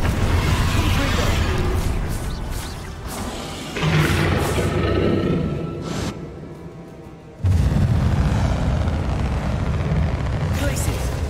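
Confringo spell blasts in the Hogwarts Legacy video game: heavy booming explosions erupt twice, swelling out of dense, continuous rumbling combat noise.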